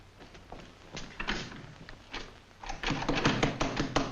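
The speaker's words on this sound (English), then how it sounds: "What's the idea of locking this door?" A locked office door is tried in a 1940 newsroom: scattered knocks at first, then a quick run of handle rattles and thuds toward the end, close and fairly loud.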